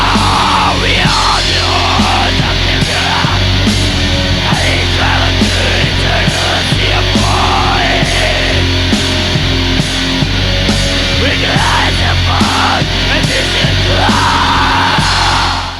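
Drums on a black metal recording, a loud dense rumble of pounding kick and crashing cymbals under distorted guitars and screamed vocals, relentless and raw, with no talking over it.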